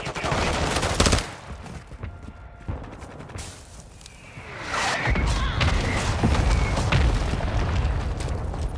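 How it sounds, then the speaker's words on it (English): Mortar strike explosions in Call of Duty Modern Warfare 2, with heavy booming blasts and rattling bursts of gunfire filling the clip, loud and close, one big impact early and a sustained roar of fire in the second half. "Hostile mortar strike incoming"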